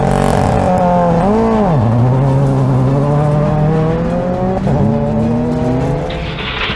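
A rally car runs flat out on a gravel stage of the Overmountain Rally in Tennessee, its engine loud and close, pitch rising and dropping sharply through gear changes and lifts with a brief tire-squeal burst near the end.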